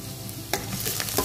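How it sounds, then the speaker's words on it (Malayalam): Garlic dropped into hot sunflower oil for a vermicelli pasta dish sizzles with a constant hiss, broken by a few quick stirring clicks near the middle and end, close and free of talk. "ഇതിലോട്ട് വെളുത്തുള്ളി ഇട്ട് കൊടുക്കാം."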